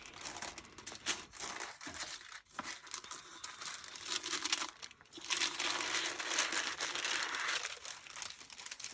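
Sticker paper tearing and crinkling while a Filofax Centennial A5 planner is unboxed, a close, steady rustling rip that runs on for several seconds with brief pauses, heard alone without talk.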